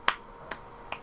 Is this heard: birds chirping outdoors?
no